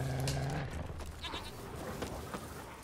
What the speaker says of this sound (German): Oh, man hört die Ziege auch.